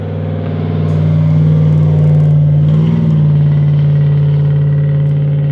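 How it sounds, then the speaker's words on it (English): A Chevy Silverado pickup truck's engine rumbles loudly and steadily near an airport. The deep drone swells as it revs, with a slight pitch rise midway, and continues close by without any talk. "That's a Chevy Silverado you hear."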